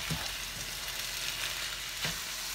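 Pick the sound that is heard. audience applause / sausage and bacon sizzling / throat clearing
sausage and bacon sizzling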